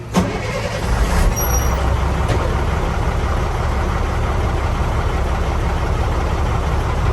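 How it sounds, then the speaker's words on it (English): A tractor-trailer truck's diesel engine cranks and catches with a brief rough burst, then settles into a loud, steady idle rumble that continues unbroken. "Now I'm going to go ahead and start the engine."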